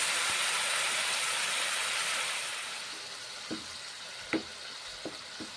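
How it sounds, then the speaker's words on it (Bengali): Ground spices loosened with a little water sizzle steadily as they fry in a pan for a ridge gourd curry, with a few sharp clinks of stirring near the end. "নেড়ে চেড়ে কষে নিচ্ছি।"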